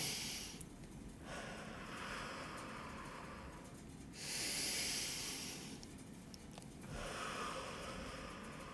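Slow deliberate breathing during a lazy 8 breathing exercise, with long airy inhales and exhales alternating in broad swells, close and soft, with no talking.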